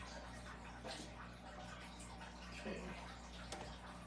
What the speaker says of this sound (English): Now I'm gonna fill this up like I did the other